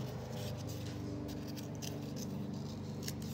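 Scissors snip through a cardboard egg carton, a steady close cutting crunch running the whole time over a low constant room hum.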